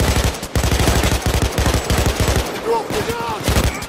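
Rapid bursts of RPK light machine gun fire in Payday 2, a steady rattling stream of shots cut by brief pauses, then fading into scattered game noise and faint calls near the end.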